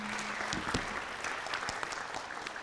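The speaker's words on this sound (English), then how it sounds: "Let's give them a big warm round of applause one more time." Audience applause for the panelists and moderator at the close of a regional forum on the ASCC strategic plan: steady, dense clapping from a sizeable crowd that fills the whole stretch without letting up.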